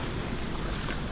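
A sailboat tacks south into a fresh 15 to 22 knot southeasterly, giving a steady, dense roar of wind buffeting the microphone over rushing waves, loud and unbroken.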